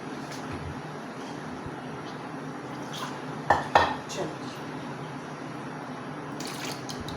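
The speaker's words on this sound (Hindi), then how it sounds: "थोड़ा सा हम इसके अंदर पानी भी ऐड करते हैं।" Water is poured into a pot of tamarind and plum sharbat while it cooks, a few short clinks and splashes standing out briefly over a quiet kitchen background, with someone talking around them.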